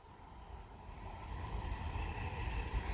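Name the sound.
Avanti West Coast Class 390 Pendolino train passing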